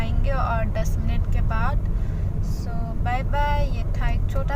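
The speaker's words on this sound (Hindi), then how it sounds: "बहुत ही ज़्यादा ट्रैफिक है," Steady road traffic noise on a busy street, engines rumbling continuously while several bursts of car horns honk over it.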